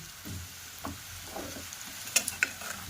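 Potatoes frying with salt and chili powder give a soft, steady sizzle up close, broken by a few spatula scrapes and sharp metallic taps against the pan.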